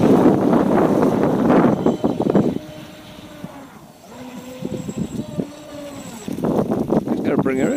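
A brushless, water-cooled Volantex RC speedboat whines and buzzes across the water in loud bursts, fading to a quieter stretch in the middle before surging again.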